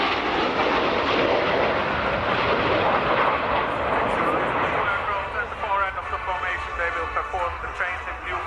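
Patrouille Suisse jets fly a display at the 2010 Royal International Air Tattoo in Fairford, with a loud, broad engine roar that later thins into a rumble as they pass, under an announcer's continuous commentary over the public address.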